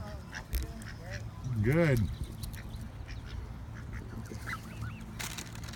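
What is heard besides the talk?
geese honking in a park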